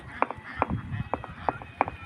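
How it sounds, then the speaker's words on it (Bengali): Ducks at a duck farm under a bridge call in a run of sharp, nasal quacks, about five at a steady pace, against a low background rumble. "অনেক সুন্দর একটি হাঁসের খামার ব্রিজের নিচে, অনেকগুলা হাঁস"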